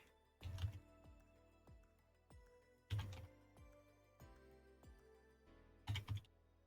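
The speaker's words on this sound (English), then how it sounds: "I'm typing." Computer keyboard typing up close, soft scattered key taps broken by a few sharper clusters of heavier strokes, likely the spacebar or enter key.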